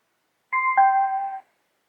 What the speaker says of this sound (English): we hear the little ding dong indicating that the Bluetooth has been connected